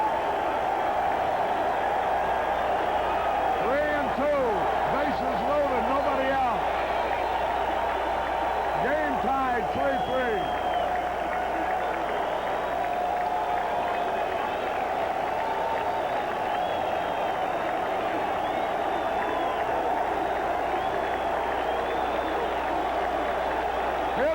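A large baseball stadium crowd at a Mets game against the Cubs roars steadily throughout, a dense sustained cheer with scattered whistles and shouts, while a commentator talks over it.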